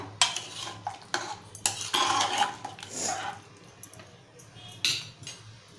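A spoon scrapes and clinks against a metal pan in irregular strokes as sprouted chickpea curry with added hot water is stirred, with soft wet stirring sounds in between. The sound is fairly close and moderately quiet.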